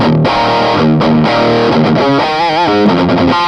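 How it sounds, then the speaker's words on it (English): Heavily distorted electric guitar through a Sawtooth 20-watt tube amp, set to a scooped-mid modern metal tone, plays a loud, busy riff with sustained chords and quick bends, with no voices over it. "if I want to even get a more modern metal sound, all I have to do"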